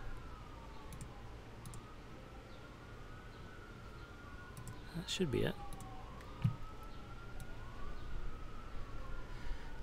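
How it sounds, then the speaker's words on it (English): A wailing city siren rises and falls in the distance through the whole stretch in Center City, Philadelphia, with a brief spoken phrase and some handling noise over it. "if you hear the sirens in the background"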